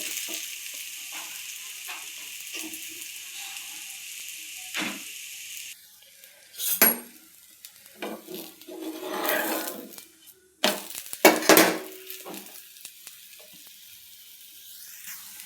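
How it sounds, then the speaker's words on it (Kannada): Akki rotti, a rice flatbread, laid on a hot griddle, with a faint even sizzle at first, then louder scraping and sizzling bursts with metallic clinks toward the end. "ರೊಟ್ಟಿನ ಈ ಥರ ತಟ್ಕೊಂಡಿದ್ದೀನಿ. ಈ ಥರ ಹಂಚಿನ ಮೇಲೆ ಹಾಕ್ತಾಯಿದ್ದೀನಿ."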